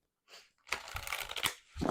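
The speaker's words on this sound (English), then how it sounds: "Give it a little bit more mix, and then let's pull a card and read from the book." Oracle cards from an Angels & Auras deck being shuffled by hand, a short soft riffle followed by a longer dense burst of papery card-on-card rustling, close and fairly quiet, with no talking.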